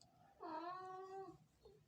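A pet cat lets out a single drawn-out, warbling yowl with a chirpy, raccoon-like quality, fairly close and alone, then a short softer chirp follows.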